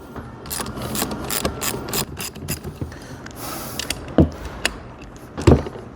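Ratchet wrench loosening the half-inch bolts that hold the motor on a trailer tongue jack, quick irregular clicking in short bursts with a few metallic taps, close and moderately loud.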